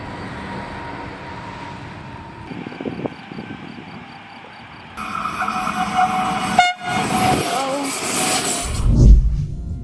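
A train rumbles past in Switzerland, growing louder as it approaches, with clattering wheels and a horn blast, heard from nearby outdoors.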